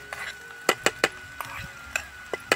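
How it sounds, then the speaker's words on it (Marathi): A spatula mixes boiled potatoes into a spiced tempering in a pan while cooking outdoors at a farm, making about nine sharp, irregular taps and scrapes against the metal, close and moderately loud. "आता हे उकडून घेतलेले बटाटे फोडणीमध्ये टाकून द्यायचे आणि व्यवस्थित मिक्स करून घ्यायचं आहे।"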